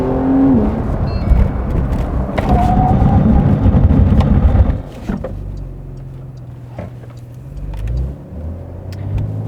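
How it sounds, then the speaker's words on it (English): Porsche 911 992 Carrera S with four-piston calipers braking hard: a loud engine and road roar that drops suddenly midway, then settles into a lower, quieter rumble as the car slows. "So why don't we check out the braking performance of 992 Carrera S."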